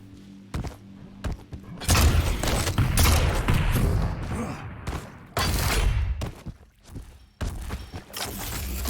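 Rocket launcher fire in a Quake-style arena shooter duel, with repeated loud thumping blasts and explosions in quick irregular bursts, interleaved with sharp gunfire and a commentator talking over the action.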